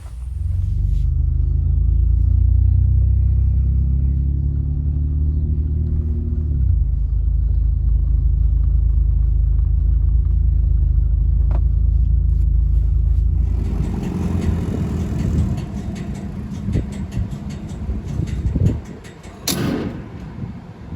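A pickup truck on the road, its engine a loud, close, steady low rumble that shifts in pitch midway, ending with a few clunks and rattles.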